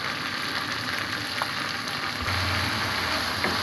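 Coriander powder is stirred into a fish masala for Bengali tel koi, frying in oil with a loud, dense, continuous sizzle and faint stirring scrapes underneath.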